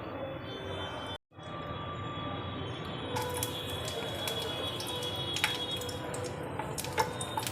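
Dried red chillies sizzle in hot mustard oil for a Bengali khichuri, a steady broadband frying hiss that briefly cuts out, then resumes louder with sharp crackles and spits popping over it.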